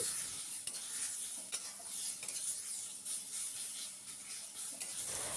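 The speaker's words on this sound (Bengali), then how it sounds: "এইবার পেঁয়াজের সাথে মশলাগুলোকে খুব ভালো করে আবার একটু মিশিয়ে নিচ্ছি" Onion and spices are stirred in a frying pan, a constant sizzle under repeated scraping and light clinks of the spoon against the pan.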